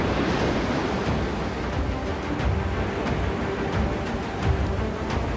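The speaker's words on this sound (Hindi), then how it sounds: "यहाँ तूफान ने समंदर की लहरों को इतना मारक बना दिया कि तट पर बनी सीढ़ियां भी टूट गईं।" Stormy sea waves driven by cyclone Yaas pound Chandipur beach in Odisha, a loud continuous roar of surf and rushing water mixed with gusting wind noise buffeting the microphone.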